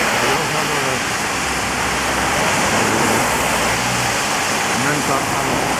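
Steady rain falling on a street in Azabu, Tokyo, on a June afternoon, a constant broadband hiss that runs unbroken throughout, with faint low traffic rumble and occasional distant voices beneath it.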